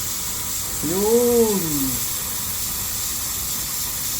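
Pot of balbacua cooking at home lets out one short rising-and-falling whistle of steam, lasting about a second over a steady hiss, with a brief spoken word.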